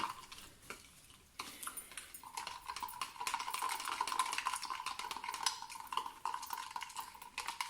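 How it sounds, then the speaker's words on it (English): A yeast, sugar and water mixture being stirred in a bowl, with steady scraping and clinking of a utensil against the bowl's sides, continuous and close, with no talking. "Give it a good mix."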